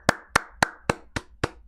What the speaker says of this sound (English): Jey in the ring applauding